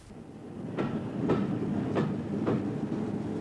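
A train rolls steadily along the track, a continuous low rumble broken by four evenly spaced clicks of wheels passing over rail joints, close and moderately loud with no voices.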